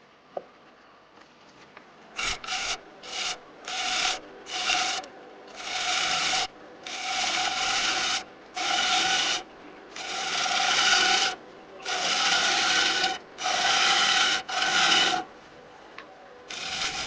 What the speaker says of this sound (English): If you notice the change in cutting noise, that's because I was going downhill on the bowl base, which tends to tear the grain a lot more